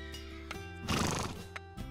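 A cartoon horse whinnies once in a wintry stable scene, a loud, rough, shaking neigh over a steady tonal background, briefly preceded and followed by softer sounds.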